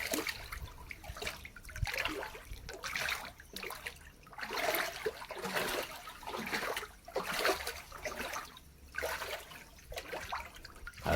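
Water gushes and splashes into a farm water tank outdoors, surging in uneven waves of rushing flow for several seconds.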